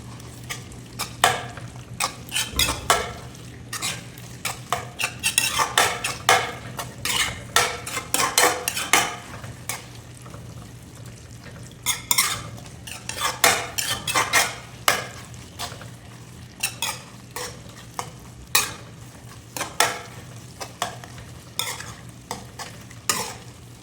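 A spatula stirs potato, brinjal and capsicum kheema in a sizzling pan. Quick bursts of scraping and clanking on metal come in irregular clusters over a low frying hiss, close and clear.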